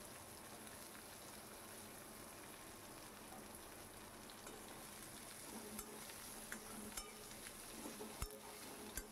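Sliced onions crackle and sizzle in hot oil with cumin seeds, a steady dense frying hiss through the whole stretch with a few sharper pops and stirring clicks near the end.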